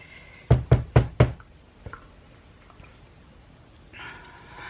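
A soap mold being tapped down on a work surface gives four quick, sharp knocks in a row, close and loud, followed by faint handling sounds.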